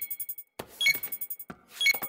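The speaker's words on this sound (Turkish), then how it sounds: "Bilgisayar neden bipliyor?" A cartoon library computer beeps in a repeating pattern: a run of short electronic bleeps, a pause, then another run, sharp and close, with no talking over it.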